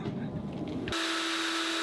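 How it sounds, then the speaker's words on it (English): After a second of muffled noise, an electric drill whirs on abruptly aboard a boat, running at a steady, high-pitched whine at speed setting 1. "I had the drill speed on 1 instead of 2"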